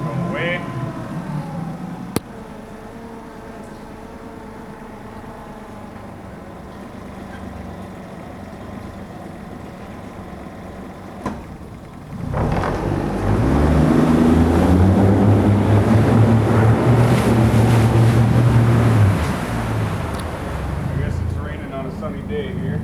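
A 2022 Mercury 25hp four-stroke tiller outboard motor turns over and catches at about twelve seconds, then runs with a steady low drone and some throttle changes, loud and close after a quieter stretch.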